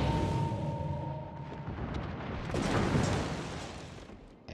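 High-explosive shells fired in a naval battle video game during a one-on-one ship brawl, heard as a loud, drawn-out rumbling boom with a low tone at the start, swelling and then fading away, with no talking.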